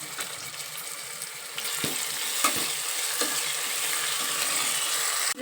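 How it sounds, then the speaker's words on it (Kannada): Ground masala paste fries in hot oil for egg biryani, a steady close sizzle with occasional scraping clinks of a spoon against the pan. "ಮಸಾಲೆ ರುಬ್ಕೊಂಡಿದ್ದಲ್ರಿ ಮಿಕ್ಸಿ ಹಾಕೊಂಡು ಅದನ್ನ ಎಣ್ಣೆ ಒಳಗೆ ಹಾಕೊಂಡು ಅದನ್ನು ಸ್ವಲ್ಪ ಫ್ರೈ ಮಾಡ್ಕೋಬೇಕು"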